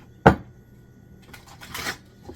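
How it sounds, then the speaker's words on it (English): Tarot cards being shuffled by hand: one sharp riffle-like burst near the start, then a softer, longer stretch of card shuffling, close and alone with no talk. "A couple more shuffles."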